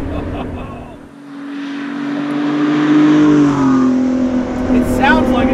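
A throaty 2018 Ford GT engine revs up and accelerates, a rough, loud drone rising in pitch and building steadily over several seconds.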